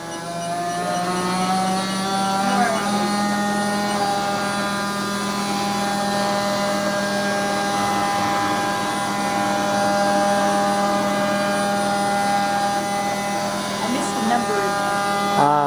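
A machine spindle whines steadily at high RPM, a continuous close, loud tonal hum with layered harmonics and a low rumble beneath, holding nearly constant throughout.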